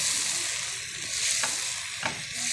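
Spices for chicken curry fry in hot oil with a loud, steady sizzle, and two sharp stirring scrapes cut through it.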